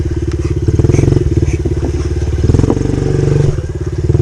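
A dirt bike engine chugs loud and close while riding across open land, a steady rapid pulsing exhaust that surges in revs a couple of times before easing off near the end.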